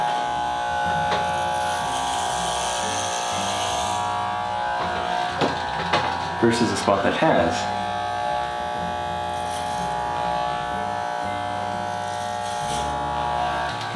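Electric hair clippers run with a steady close buzz while cutting someone's own hair, the tone shifting briefly mid-clip as the blades pass over an uncut spot, with a short spoken phrase over the hum.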